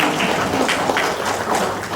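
An indoor audience claps steadily for the RBRA team at an opening ceremony for a standardisation witness audit held at a library service centre, a dense, even patter of many hands.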